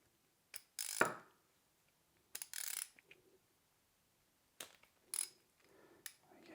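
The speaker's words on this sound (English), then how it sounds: "Let's take the pedal body off this one. Okay, it's reverse thread." An Assioma SPD-SL power meter pedal body is worked off its reverse-thread spindle, giving short bursts of ratcheting and mechanical clicking separated by quiet pauses, close and fairly soft.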